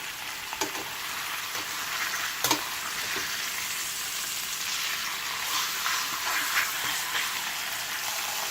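Lamb neck pieces browning in a pan hiss in a steady, loud sizzle with a few sharper spits and pops, close by and free of talk.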